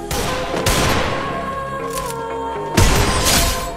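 Gunfire rattles in a Free Fire match, with sharp, close shots in quick bursts over a dense, noisy game soundscape, and a heavier blast near the end.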